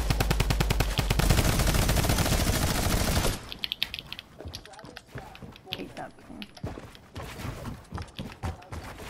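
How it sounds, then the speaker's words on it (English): Rapid minigun fire in the Fortnite video game rattles loudly for about three seconds, then gives way to scattered quieter shots and game noise, with a voice talking over parts of it. "he's got that stupid ass fucking minigun"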